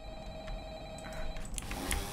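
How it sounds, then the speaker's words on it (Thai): A telephone rings inside the Employee of the Month video game, heard as a steady electronic ring tone running through the clip at moderate level over a faint background, with no talking. "มีเสียงโทรศัพท์"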